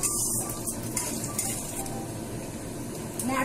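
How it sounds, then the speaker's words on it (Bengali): Grated coconut frying in hot oil in a pan while preparing ghugni, a steady close sizzle and crackle running throughout with light stirring scrapes. "নারকলটাকে একটু লাল লাল করে ভেজে নেব।"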